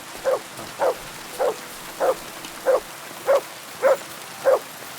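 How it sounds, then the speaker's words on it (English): A dog barks in the video game Kingdom Come Deliverance 2, nine short, evenly spaced barks at moderate volume over a quiet background, with no speech. "Good dog, Matt."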